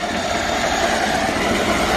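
Old Yanmar 4WD articulated-steering wheeled dumper with a gasoline engine runs with a steady, close engine rumble and mechanical rattle, constant and unbroken throughout.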